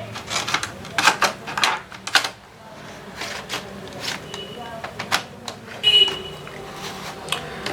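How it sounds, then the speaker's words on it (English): Plastic clicks, taps and scraping as a DVD writer drive is slid into a laptop's drive bay during a hardware repair, several short close knocks and a brief rattle, with quiet talk partly over them. "we need to put together the DVD writer. Just gonna insert this."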